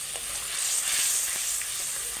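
Ground cumin and turmeric powder sizzle steadily in hot oil while preparing a wedding-style pointed gourd and prawn curry, a close, continuous frying hiss with no talking.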